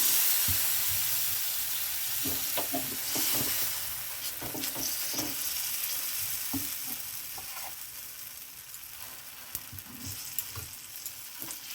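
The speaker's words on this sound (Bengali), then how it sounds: "তেল গরম হয়ে গেছে, এবার সেই মেখে রাখা ব্যাটারটা দেবো অল্প অল্প করে।" Batter dropped a little at a time into hot oil sizzles and hisses continuously, a dense frying crackle with soft clinks and stirring touches scattered through it.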